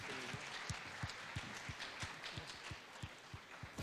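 Audience applause at the Izhevsk "Person of the City 2016" awards ceremony, scattered claps at moderate distance, a thin and uneven patter that trails off.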